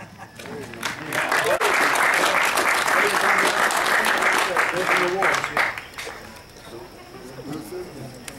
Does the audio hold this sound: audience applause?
yes